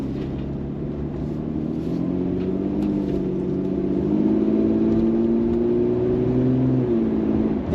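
A Jaguar XJS 4.0 engine pulls under acceleration from inside the car, a steady low rumble whose pitch climbs smoothly, steps down at a gear change and then rises again, loud and continuous with no talk.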